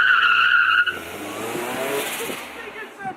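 Tires squeal hard from a Nissan Silvia fitted with a twin diff, recently made running and driven by a first-timer. A loud, sustained squeal gives way to engine noise and scuffing tires, with some voices in the background.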